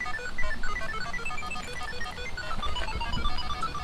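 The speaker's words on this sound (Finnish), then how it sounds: "Aha, puhelin soi." A mobile phone rings with a steady, repeating electronic melody close by in a workshop where a hybrid car is being serviced, sounding alone without talk.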